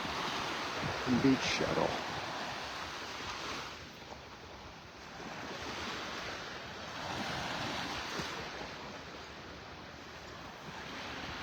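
Ocean waves rolling onto Vanderbilt Beach in Naples, Florida: a steady, moderate surf wash with gentle swells rising and falling, buffeted by wind noise on the microphone, while a person briefly speaks near the start.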